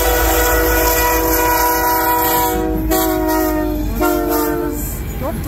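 CN freight train 5772 hauling continuous welded rail passes close by at Ladysmith, its horn sounding loud, sustained harmonic blasts over a steady rolling rumble of the cars.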